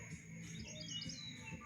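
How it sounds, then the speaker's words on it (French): Small birds chirp faintly in quick, high tweets against a low background hum. "Ah, les petits oiseaux."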